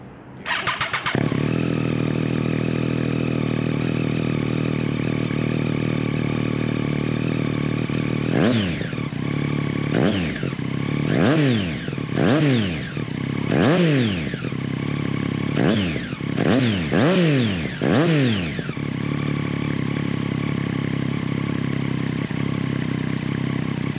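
A Triumph Street Triple 675 motorcycle starts up and idles in a steady, loud, close drone, then a series of sharp throttle blips rise and fall before it settles back to idle.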